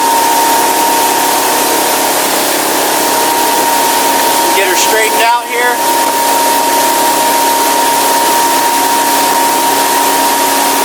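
A 2002 Sea Ray 280 Sundancer cruiser's engine drones loudly and steadily with constant rushing water and wind, while someone speaks briefly over it.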